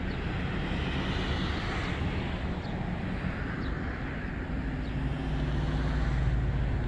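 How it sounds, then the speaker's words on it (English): Distant traffic forms a steady, broad roar in the background, like vehicles or an aircraft passing far off, with no talk. "I can hear traffic in the background"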